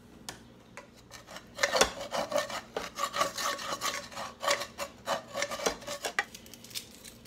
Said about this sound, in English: I'm going to get a wooden spatula and kind of scrape all this out